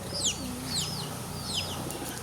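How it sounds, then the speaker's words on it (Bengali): Pigeons at a rural homestead give soft low coos under a few repeated high bird chirps, moderately close against a quiet outdoor background. "আর ওই যে কবুতর"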